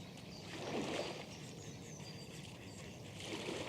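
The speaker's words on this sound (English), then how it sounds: "the student can hear the sound of the oars in the water, the sloshing of the river water against the bank" Rowboat oars slosh through river water near a bank at dusk, a soft continuous watery wash with gentle swells of louder splashing, faint and steady, with light bird calls high above.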